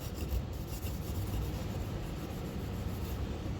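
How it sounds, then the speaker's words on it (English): Headlamp glass from a 1965 Mercedes W113 Pagoda 230 SL scrubbed with a Scotch-Brite pad, a steady close rasping rub that continues without a break. "So I'm going to give it a good scrub, get in the grooves"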